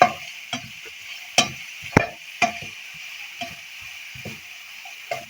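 Green and red chillies are stirred in a pan: a quiet sizzle broken by a series of distinct spoon scrapes and knocks, roughly every half second to second.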